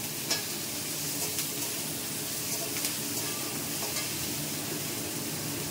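Potato and pumpkin curry sizzles in a pan with a steady frying hiss, broken by a few sharp scraping stirs, while someone talks quietly.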